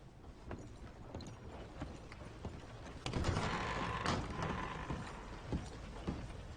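Horse hooves clip-clop in a steady uneven rhythm in the video game Red Dead Redemption 2, moderately quiet over a dense textured game background, growing slightly louder midway.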